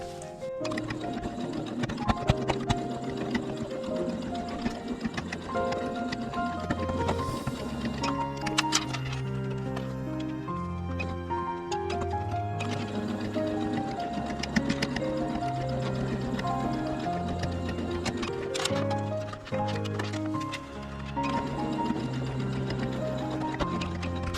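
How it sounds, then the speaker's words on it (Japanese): A sewing machine edge-stitches a fabric phone pouch, running in steady rapid bursts under background music with tonal layers, the needle ticking continuously throughout. "最後にここがまだ端ミシンができてなかったのでこんだけしていきます"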